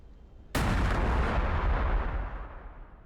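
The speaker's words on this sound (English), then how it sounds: "Toss a stick bomb." An Ork stick bomb in Warhammer 40,000: Battlesector goes off as one sudden loud blast, then a long rumbling decay fades away over the next few seconds with no voices.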